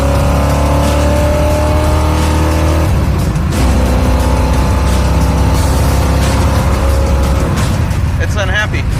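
A 5-speed car with dual exhaust pipes rumbles and revs loudly up close, its engine note rising and dropping, with a voice talking under the noise.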